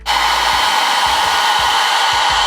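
Hair dryer on a warm setting switching on and blowing steadily over wig glue, a loud constant whooshing hum with faint low thumps as it moves about, close by.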